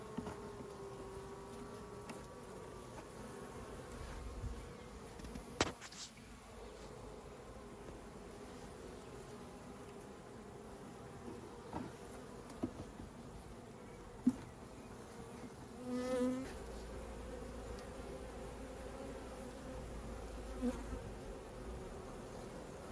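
Honey bees from an opened hive buzz as brood frames are moved between boxes, a faint, steady hum with occasional soft knocks and clicks from handling the equipment.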